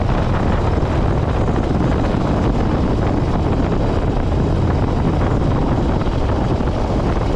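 Sophie, a motorcycle, rides along a road in the Ardèche, its engine a steady loud drone buried in heavy wind roar that stays constant and close throughout.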